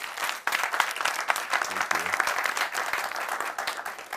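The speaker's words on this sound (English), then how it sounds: "Please clap for him." Audience applause at a recovery stories event, a dense steady wash of many hands clapping for several seconds, fairly faint and distant with no clear talk over it.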